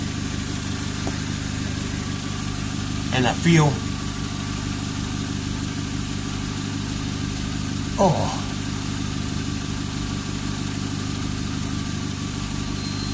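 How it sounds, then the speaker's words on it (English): A steady car engine idles with a low, even rumble throughout, heard near the resonator after a homemade exhaust gasket is fitted, while a person speaks briefly and a couple of short clanks sound nearby. "Car's running."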